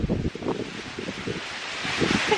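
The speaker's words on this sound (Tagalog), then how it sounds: "Grabing hangin." Strong wind in an outdoor garden buffets the microphone in rough, rumbling gusts, a constant airy roar with low thumping bursts.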